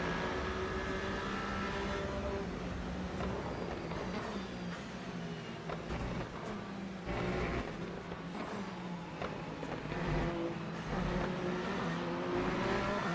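Hypercar race car engines in the Le Mans Ultimate racing game at Le Mans, a steady loud roar of engine noise with rising and falling tones as cars pass, running without pause and with no talk.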